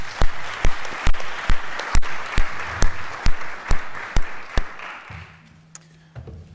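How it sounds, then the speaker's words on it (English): Applause at a business and biodiversity forum, with loud, evenly spaced claps, as if from a single close clapper, over a softer crowd of clapping that thins out and fades toward the end. "let us thank all the speakers once again with a big applause"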